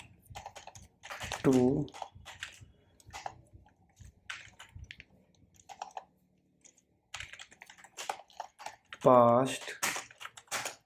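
Fingers tap steadily on a computer keyboard while writing a simple C program, the quick clicks coming in short bursts around someone speaking Hindi.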